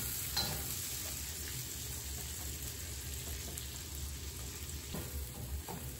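Asafoetida and tomatoes sizzling in a hot pan for a home-cooked vegetarian curry, a steady close frying hiss with faint stirring clinks and no talking.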